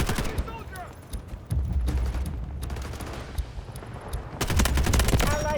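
Gunfire in the Delta Force Hawk Ops video game: bursts of rapid shots at the start, in the middle and near the end, with quieter stretches and some talk between them.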